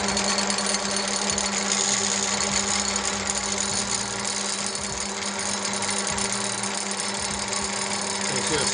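An electric motor running under load in a friction test rig gives a steady, unbroken mechanical drone and hum with a constant tonal whine, loud and close throughout.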